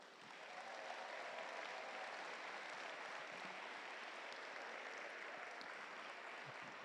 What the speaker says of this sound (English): let's give all of those mentors and our community members a round of applause